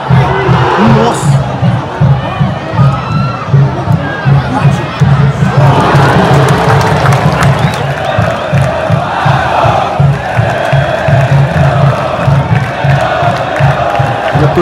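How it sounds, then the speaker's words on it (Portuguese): Vasco football supporters at a match in Santa Catarina sing and chant together in a loud, dense roar, with rhythmic pulses of the chant and shouts running throughout at close range. "Torcida do Vasco fazendo festa, ó."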